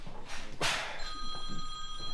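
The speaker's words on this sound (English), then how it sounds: "phone's going" A telephone rings on a building site during electrical first-fix work, a steady electronic ring that starts partway through and continues over low background noise.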